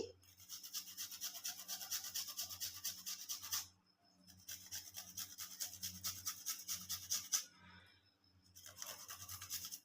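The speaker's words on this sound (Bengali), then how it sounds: "এবার এই আলুর মধ্যে একটু আদা আমি গ্রেট করে দিয়ে দেব" Fresh ginger is rubbed on a grater over potatoes in a series of quick rasping strokes, with two short pauses between bursts, close and fairly quiet.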